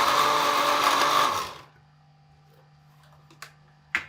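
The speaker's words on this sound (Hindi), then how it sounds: "अब मज़ीद 1 मिनट तक इसको ग्राइंड करेंगे।" An electric grinder whirs loudly while blending green chutney with white cumin and salt, then cuts off abruptly, leaving a low hum and a couple of sharp clicks.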